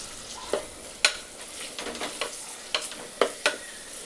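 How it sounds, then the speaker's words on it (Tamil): Tomatoes and slit green chillies sautéing with onions and ground masala in a pan, a soft steady sizzle broken by several sharp spoon-stirring scrapes and clicks. "நான் சின்ன சைஸ் தக்காளி 2 கட் பண்ணி வச்சுருக்கேன், அதை சேர்த்துக்கிறேன்"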